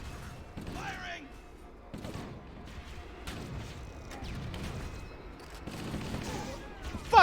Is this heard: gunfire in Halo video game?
yes